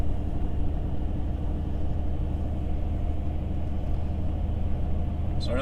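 A supercharged 2003 BMW E39 M5 idles with a steady, low, even rumble from close by, a continuous drone with no revving and a faint click at the very end.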